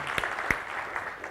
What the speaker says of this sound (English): Applause for Owen.